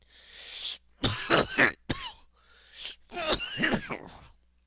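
Several harsh coughs and throat-clearing bursts in quick succession, close and fairly loud, with brief pauses between them and no talking.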